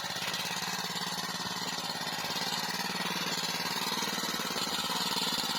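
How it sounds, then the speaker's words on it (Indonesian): A tractor engine works a field with a steady, rapidly pulsing mechanical chug, continuous and moderately close, with no clear speech over it. "lihat orang traktor"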